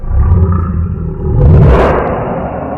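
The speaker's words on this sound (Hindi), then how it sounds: "उसने एक तेज दहाड़ लगाई" A lion in an animated Hindi moral story gives a loud, deep, rumbling roar that swells to a peak midway and then fades, with no talking.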